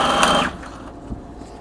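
Sewing machine stitching fabric for a homemade bag: a short, fast whirring run of stitches for about half a second, then it stops and only faint room noise remains.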